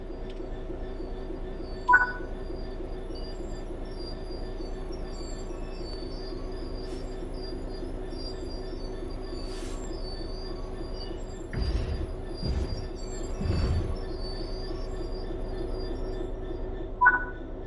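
Train braking to a stop in Train Sim World 3, a steady low rumble of the train with a few brief squeals and hisses as the brakes hold, heard alone without voices.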